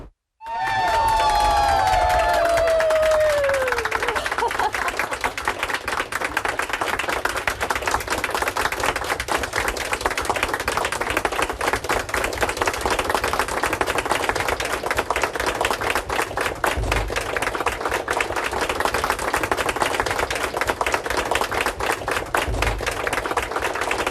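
Students and colleagues in university hallways clap for a Nobel Prize in Physics laureate: a long, dense, close wash of clapping with crowd cheering. A few high whistle-like tones rise at the very start.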